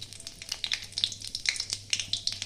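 Garlic frying in mustard oil with nigella seeds and a dried chili gives a close, steady crackle of sharp pops and spits, with quick stirring scrapes mixed in.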